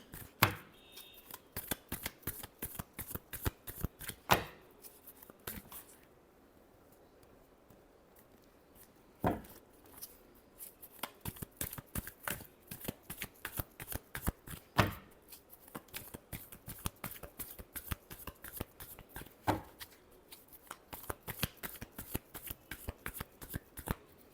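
Tarot cards shuffled by hand in rapid riffling bursts, repeated crisp flutters with short pauses between runs, close and alone.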